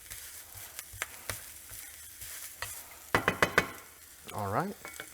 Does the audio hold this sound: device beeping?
no